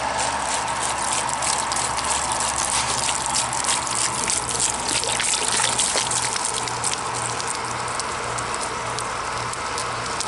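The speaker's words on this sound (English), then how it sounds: "All the water you need, right there. Look at that. It's been pumping for almost 45 minutes now." Water gushing steadily from a pump on a freshly jetted shallow well, a loud, continuous splashing rush that holds even throughout with no voices.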